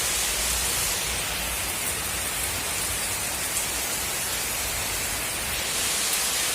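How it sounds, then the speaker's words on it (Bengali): Steady rain pours outdoors in Bengal, a dense, even hiss with no breaks and no voices. "আমাদের দিকে তো বৃষ্টি পড়ছে।"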